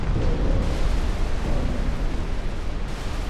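Heavy rumbling torpedo explosions batter a battleship in the naval game Ultimate Admiral Dreadnoughts, a dense continuous roar of booms blending together without pause.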